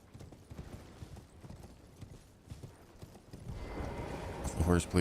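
Horse hooves clip-clop in a video game, a quick rhythmic trot that is faint at first and grows louder near the end, along with some mechanical creaking.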